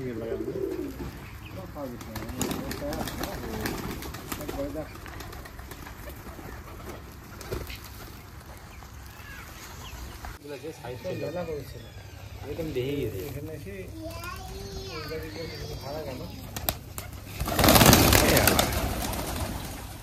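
Giribaz pigeons cooing repeatedly while they feed, soft, rhythmic coos from a sizeable flock, with someone talking over them and a brief loud flutter of wings near the end.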